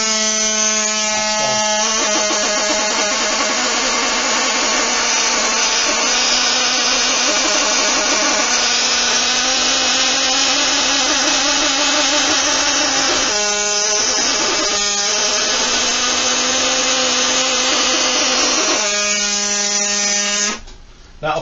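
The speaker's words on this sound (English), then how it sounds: "power your texturing tool up and actually just go around the outside just to remove any of the buffing soap" A power texturing tool with fine needles buzzes steadily in a high, whining tone while cleaning buffing soap from the matrix around a nautilus fossil, with brief dips in pitch and a sudden stop at the end.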